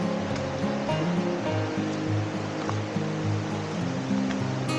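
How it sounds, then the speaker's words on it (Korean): Simhyeong waterfall at Naeyeonsan, falling in two streams, a constant rushing roar of water close by with no speech. "이렇게 폭포가 두 갈래로 흐르고 있는 게 심형폭포입니다"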